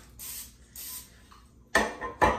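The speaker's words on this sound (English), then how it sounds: "And I'm just gonna spray this very lightly." Aerosol spray can misted lightly over snack food in a kitchen, two short soft hissing bursts followed by two louder, closer sprays, with no voices.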